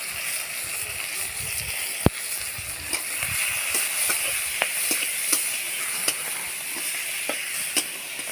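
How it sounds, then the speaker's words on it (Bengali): Prawns fry in a pan with a steady hiss of sizzling oil, broken by occasional sharp pops and scrapes of stirring, close and moderately loud. "চিংড়ি মাছটা আমার ভাজা হয়ে গেছে, এবার আমি নামিয়ে নেব"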